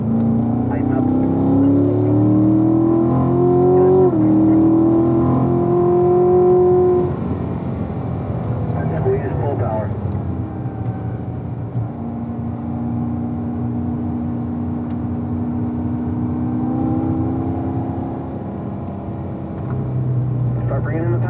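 A CL1 race car engine accelerates on track, its tone climbing steadily before easing off and building again, loud and close, while a coach talks over it.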